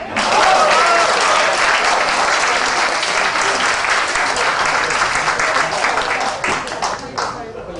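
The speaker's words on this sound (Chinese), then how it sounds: "我哋為醫班鼓掌。" A large crowd claps loudly and steadily at the St Paul's College Class of 1969 40th anniversary reunion in 2009, with the applause easing off slightly toward the end.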